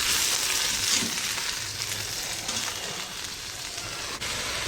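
Mushrooms and carrot cubes being stirred in an electric pressure cooker for vegetable pulao, a loud continuous frying sizzle with faint scraping of the spoon, no voices.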